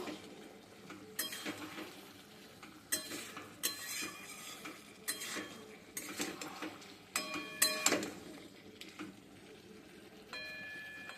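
A spatula scrapes and clinks in a pan as river boal fish curry with chili powder is stir-fried. Quiet, irregular scraping strokes repeat throughout, with no voices.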